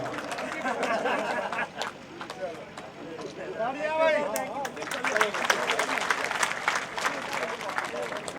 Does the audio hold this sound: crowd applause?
yes